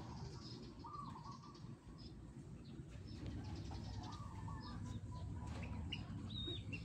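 A racing pigeon arrives at its home loft after a long-distance race, its wings flapping in brief bursts against steady outdoor background noise, with faint bird calls scattered through.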